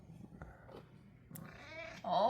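A cat being bathed gives a few short meows, close and fairly soft, with a person's voice in the background.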